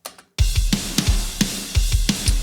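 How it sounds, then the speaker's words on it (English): Mixed drum kit with room mics blended in, punchy kick and snare hits in a steady groove over washy cymbals, loud and roomy after a brief quiet start. "So the drums sound like this."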